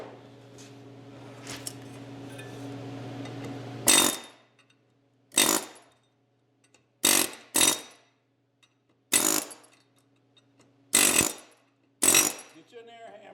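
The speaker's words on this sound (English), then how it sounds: "Get you an air hammer." Pneumatic air hammer working on a front wheel bearing and knuckle of a 2008 Hyundai Santa Fe in a garage, firing in about seven short, loud separate bursts with silent gaps, after a lower steady hum.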